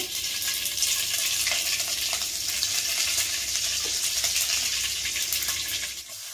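Mustard seeds sizzling and crackling in hot oil in a pan, a steady close hiss with small pops running throughout and easing off at the very end, with no voices.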